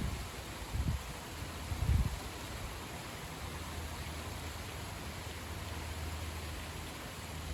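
Steady rain shower in blustery weather behind a passing squall, a broad hiss of falling water with two brief gust thumps early on, then an even, continuous roar with no voices.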